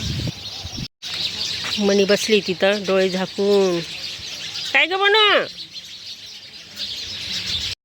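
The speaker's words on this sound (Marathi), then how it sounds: "तर आता चिमण्यांचं चिवचिवाट." Sparrows chirp and twitter in a bael tree at dusk, with clear repeated chirps in bursts above a steady hiss of wind before rain, while someone speaks nearby.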